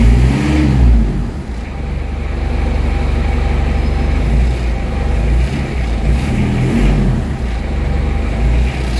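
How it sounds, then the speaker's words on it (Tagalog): Car engine running at about 2000 RPM with low power, a loud steady drone close to the microphone, with slight rises and dips in pitch and no talk over it. "Yung andar ng engine nasa 2000 RPM."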